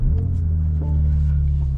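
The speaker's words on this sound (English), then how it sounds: "Hopping inside now, foot on the clutch, let's fire it up." A 2025 BMW M2 with a manual clutch idles with a steady, loud, deep engine rumble right after firing up, close by and with no voices.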